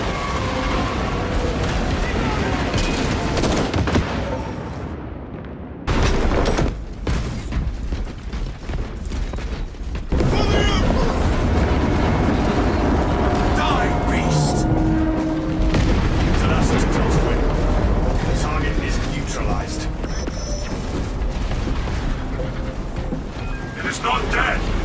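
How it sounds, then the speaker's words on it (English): Detonated charges explode in Warhammer Space Marine 2 as deep, rumbling booms and heavy blasts, loud and continuous, under and between spoken game dialogue. "Detonate the charges now."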